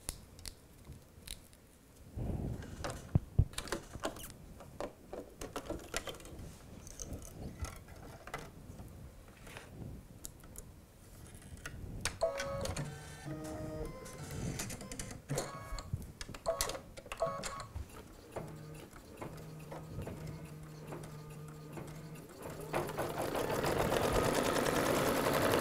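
An embroidery machine sews the placement stitch for a pair of ears, its needle running in a fast steady mechanical rhythm with clicks and rattles, growing louder and more even toward the end, with no talk over it.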